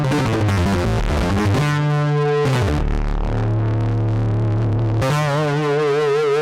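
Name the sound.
distorted synthesizer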